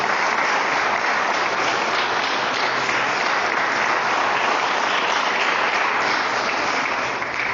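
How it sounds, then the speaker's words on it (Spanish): A church congregation applauds loudly during a Spanish-language sermon, dense continuous clapping that fills the room at an even level throughout with no voices over it. "¿Cuántos dan un fuerte aplauso al Señor?"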